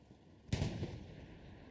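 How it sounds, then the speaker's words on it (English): Single heavy artillery shell impact in Hell Let Loose, a deep boom with a broad crack that decays into a rumbling tail, alone and fairly loud. "The artillery squad at work."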